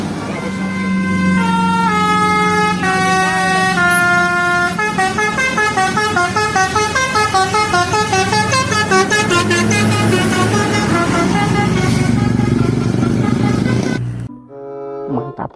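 New Santika bus passing by and sounding a loud musical horn, a long melodic sequence of repeated tones played over the rumbling engine, close and dominant until it cuts off abruptly near the end.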